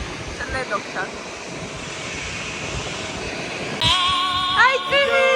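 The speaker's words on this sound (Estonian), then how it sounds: "See on lennuk seal." An airplane near an airport gives a steady roar that swells after a few seconds, while light chatter and other ambient activity carry on around it.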